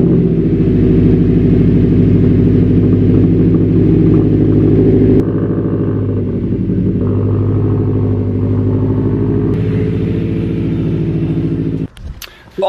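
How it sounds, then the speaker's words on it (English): A 2013 Subaru WRX with a catted downpipe and axle-back muffler delete starts cold and settles into a loud, steady, deep burbling idle close by, the level stepping down partway through before a brief clatter at the end. "So this is a startup of a 2013 WRX with a CNT catted downpipe and nameless axleback muffler deletes."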